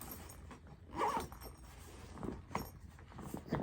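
Zipper on an RKA Rackbag pulled around the expandable section, a short scratchy zipping burst near the start followed by softer rustling and handling, close and quiet.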